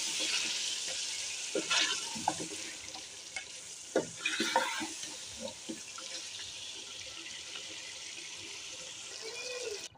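Chicken being browned with masala in a pan gives a soft, continuous sizzle and wet sputter, with a few clinks and scrapes of stirring early on, then a quieter steady frying hiss.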